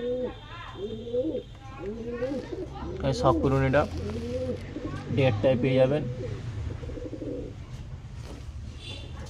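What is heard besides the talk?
pigeons cooing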